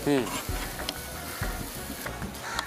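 Dry fruits, sesame seeds and grated coconut cooking in a pan, soft sizzling with repeated spoon stirs and scrapes, a short burst of talk at the start.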